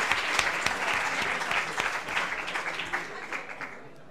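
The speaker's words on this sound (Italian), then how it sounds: "Vi facciamo un applauso." An audience applauds at an event celebrating the 300th anniversary of Maria Gaetana Agnesi, with dense, loud clapping that swells and then gradually fades over a few seconds.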